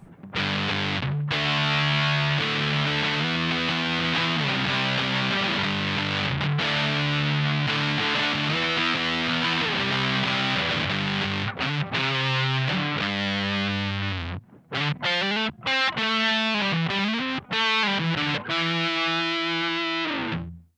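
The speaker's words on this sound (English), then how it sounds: "this is what the Black Mud sounds like" Electric guitar played through a Black Mud fuzz pedal, a thick, saturated fuzz tone with sustained chords and riffs, loud and continuous with brief gaps near the end.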